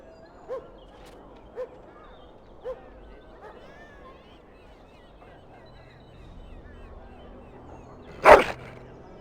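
A dog barks in Dragon Age: Origins, three short evenly spaced barks at a moderate distance, followed by a faint background murmur and then a sudden sharp, louder burst near the end.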